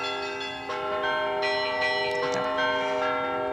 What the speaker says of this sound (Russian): сейчас для нас ее немножко приглушает колокольный звон, праздничный звон, возвещающий радость светлого Христового воскресения